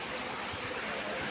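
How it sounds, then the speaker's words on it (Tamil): Heavy rain pours steadily in a short, dense hiss of water, with a faint low rumble beneath and no clear voices over it. "1/4 மணி நேரம்னாலும் சரியான மழை."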